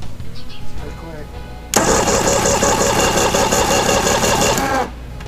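A 1999 Mercury 200 EFI outboard engine cranks over steadily for a compression test, a loud, fast, rhythmic churning that starts abruptly after some quiet room noise, runs for about three seconds and then stops.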